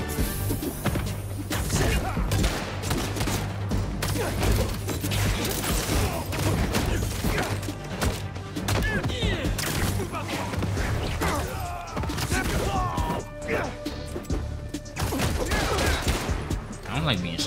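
Dense, continuous volleys of gunfire and crashing impacts aimed at Spider-Man in the Spider-Man 2 video game, loud and relentless throughout, with voices mixed in.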